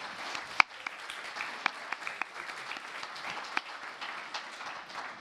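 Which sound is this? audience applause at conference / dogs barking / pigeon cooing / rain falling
audience applause at conference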